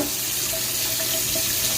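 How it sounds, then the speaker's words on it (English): Hot water pours steadily from a tap into a Butterball XL turkey fryer, a continuous close rushing splash with no talk. "I'll go ahead and put my hot water in"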